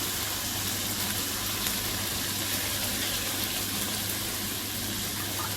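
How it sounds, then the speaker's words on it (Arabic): Washed rice drains in a strainer, water pouring and trickling in a steady, continuous rush close by with a faint low hum beneath. "كوبايتين رز انا غسلاهم هصفيهم"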